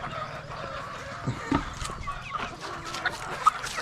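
Chickens on a small backyard farm clucking while being fed, a few short clucks and calls over quiet rustling background.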